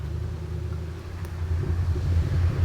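A red four-wheel-drive truck drives down a road at Little River Canyon in Alabama, its low engine rumble growing steadily louder as it approaches. The sound is outdoors with no talking.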